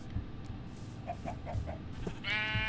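Minecraft sheep bleat in a blocky game world full of chickens, with a wavering bleat rising near the end over soft game ambience, short and fairly close, no talk.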